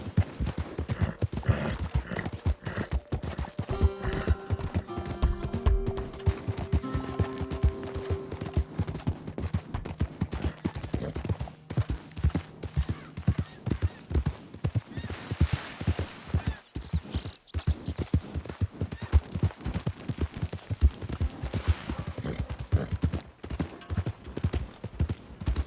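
Horse hooves clip-clop in the Red Dead Redemption 2 video game, a steady rhythmic trot close up, with faint game mechanisms and occasional other sounds underneath.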